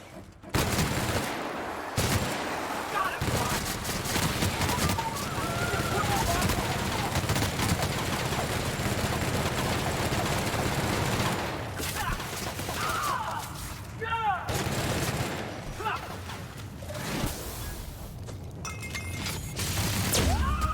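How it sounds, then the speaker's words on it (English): Gunfire in The Outer Worlds, bursts of shots and weapon mechanisms rattling through a long stretch of combat, loud and dense with brief pauses. "Now let's get to shooting before I get all sentimental."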